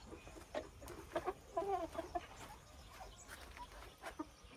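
A hen clucks in short, uneven bursts, fairly faint and nearby, with soft rustling in the background.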